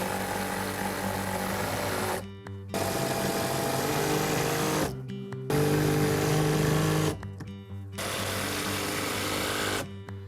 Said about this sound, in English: We're going to put the screws in the hinges now